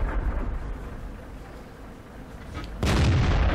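Tank cannon fire in the World of Tanks video game, a low rumbling battle bed that breaks into a sudden loud boom of a shot near the end, heavy and sustained.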